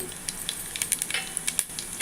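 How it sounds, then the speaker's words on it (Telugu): Mustard seeds, cumin and fenugreek crackling in hot oil for a fish curry tempering, a quiet hiss dotted with quick sharp pops at an irregular rhythm, close and alone. "ఈ పోపుని బాగా చెట్లనివ్వండి"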